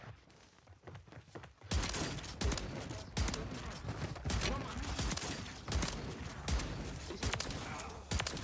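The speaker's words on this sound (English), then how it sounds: "Shotgun." Shotgun blasts from the Reclaimer 18 in Warzone boom in several loud, separated shots amid gameplay clatter, following a quieter stretch at the start, with faint voices in the background.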